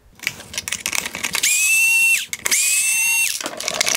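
A power tool whines as it backs T20 Torx screws out of the cooling fan on a 2019-2021 Mercedes-Benz A220 LED headlight: two steady, loud close-up bursts of about a second each, separated by a brief pause, with handling clicks around them.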